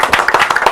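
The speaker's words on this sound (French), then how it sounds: "Est-ce qu'on peut l'applaudir?" A brief burst of clapping at a Paris press conference, quick close claps from a few pairs of hands over less than a second, with no talk.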